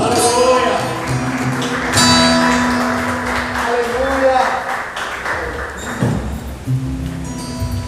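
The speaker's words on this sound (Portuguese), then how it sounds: "Aplauda o nome do Senhor Jesus." A church congregation claps during a worship service, broad and sustained, while voices and lingering sung or spoken tones carry on over it.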